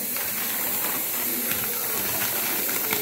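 A pot of water boiling on a stove for pasta gives a steady, dense hiss and bubbling roar, close and continuous with faint clicks scattered through it.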